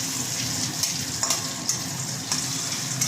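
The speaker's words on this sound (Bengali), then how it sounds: "এখানে আমি একটা তেজপাতা আর 2টো এলাচ আর দারচিনি এর মধ্যে ফোড়নে দিয়ে দিলাম" Bay leaf, cardamom and cinnamon sizzling in hot oil for a tempering, a steady close frying hiss broken by several brief scraping stirs of a spatula, no voices.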